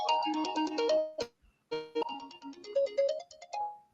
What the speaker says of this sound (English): ringtone came in at a good time.